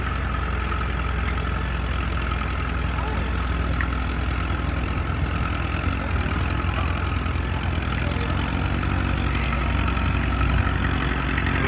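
An antique tractor engine runs at a tractor pull, a loud continuous low chugging rumble with steady knocking pulses and no break, close by and without voices.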